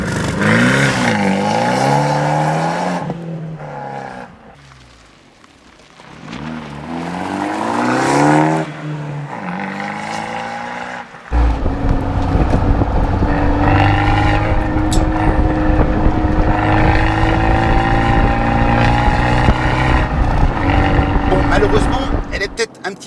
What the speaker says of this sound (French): Écoutez-moi ce bruit qui sort des 4 pots d'échappement.